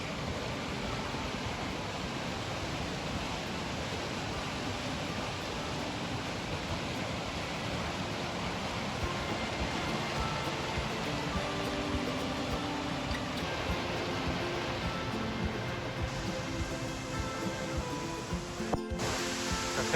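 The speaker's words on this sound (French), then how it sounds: "en m'éloignant de la cascade, c'est un peu plus agréable parce que ce bruit assourdissant a commencé un peu à taper sur le système" A waterfall near a cave roars in a steady, dense broadband rush, loud and continuous throughout, with no voices over it.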